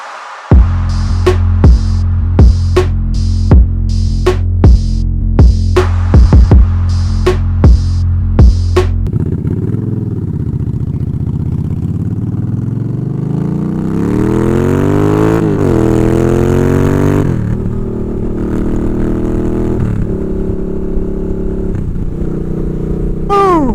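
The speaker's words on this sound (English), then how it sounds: "just feels so fucking good to be back on my motorcycle" A motorcycle engine runs loud and close, idling with rhythmic pulses before revving up through rising gears as it rides off.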